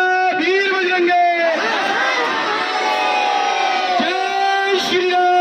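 A devotional crowd at a Hanuman Janam Utsav gathering shouts a Jaikara Veer Bajrange chant in loud, sustained voices that rise and fall together in long drawn-out calls, close and filling the space.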